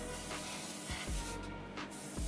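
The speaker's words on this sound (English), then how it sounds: "I laid down about 5 coats of Tamiya's acrylic white." Short bursts of an airbrush spraying Tamiya acrylic white paint, soft airy hissing puffs with brief pauses between them, close and fairly quiet.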